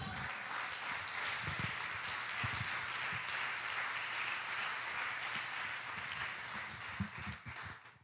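Congregation applauding during a church sermon, a sustained wash of clapping from many hands that fades out at the end, with a few nearer claps and no speech.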